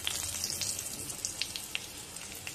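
Dried red chillies and bay leaf frying in hot oil in a home kitchen pan, a quiet continuous sizzle with small crackles and pops scattered throughout, no voices.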